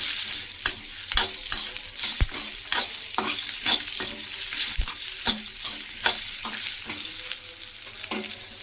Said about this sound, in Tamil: இதை வதக்கிட்டு இதை முதல்ல நல்லா வதக்கிக்கோங்க